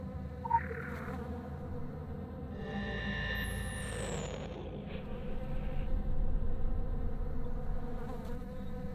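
Bees buzzing steadily in The Secret World video game, a close continuous insect drone with a brief higher whine partway through, no voices.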